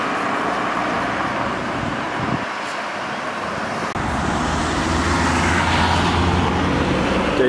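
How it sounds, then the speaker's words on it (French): A Porsche Cayenne Turbo passes on a street during carspotting, its engine and tire noise rising into a loud, steady broadband rush over background traffic. "Cayenne turbo en plus."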